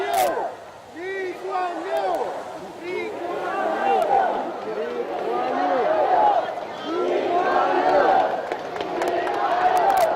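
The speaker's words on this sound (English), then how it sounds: "you can hear the crowds crying out his name" Crowds lining Commonwealth Avenue in Singapore call out Lee Kuan Yew's name in repeated rising shouts as his state funeral cortege passes, a dense, continuous outdoor chorus of voices swelling and overlapping throughout.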